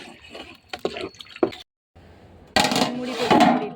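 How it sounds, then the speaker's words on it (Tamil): Tamarind water poured into a pan of tomatoes and masala for a fish curry: scraping and clinking at first, a brief silence, then a loud, close rush of sizzling liquid that holds to the end. "புளி ஊற்றிடலாம்."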